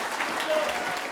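A crowd at a church rally breaks into welcoming applause, a brief dense wash of clapping at moderate distance, with a voice mixed in.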